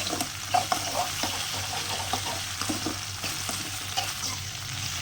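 Okra frying in oil in a pan, a steady close sizzle and crackle with occasional stirring scrapes running throughout, no voices.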